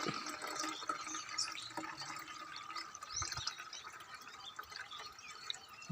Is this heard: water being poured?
yes